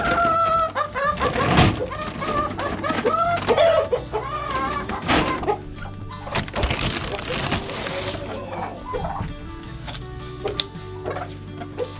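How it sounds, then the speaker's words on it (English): A flock of chickens clucks and squawks in a busy, overlapping chorus at close range, with a rooster crowing and a door clattering in a farm coop. A person speaks now and then over the birds. "It's full of chickens."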